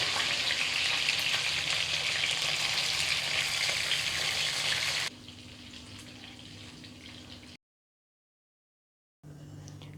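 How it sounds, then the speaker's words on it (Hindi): Fish fries on high flame with a loud, dense sizzle that drops to a quieter crackle, cuts out briefly, then returns. "दूसरी साइड पर भी हम इसे 2 से 3 मिनट तक हाई फ्लेम पर पका लेंगे।"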